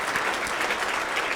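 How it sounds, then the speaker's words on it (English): An indoor audience at a Veterans Day event gives a steady round of applause, dense continuous clapping that fills the short stretch evenly without a break. "we need to give Officer Perrin another round of applause"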